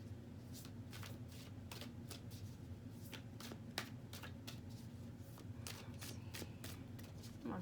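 Tarot cards are shuffled and drawn during a reading, with soft repeated riffles and quick snapping flicks of card stock close to the microphone, fairly quiet and irregular over several seconds.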